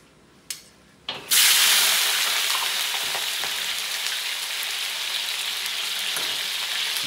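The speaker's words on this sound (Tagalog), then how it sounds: "O ngayon naman, double fry ako ng ano." Tulingan fish goes back into a pan of hot oil for a second fry. Two soft clunks come first, then a loud, steady sizzle that stays close and fills the rest of the clip.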